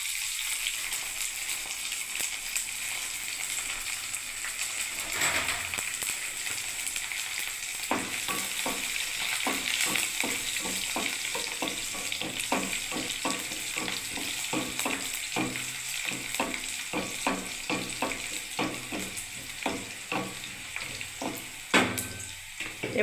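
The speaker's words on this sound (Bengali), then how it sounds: "রসুন, শুকনো লঙ্কা, জিরে দিয়ে দিলাম" Garlic, dried chilli and cumin fry in a hot wok, a steady close sizzle with a rapid run of crisp crackles and occasional stirring scrapes throughout.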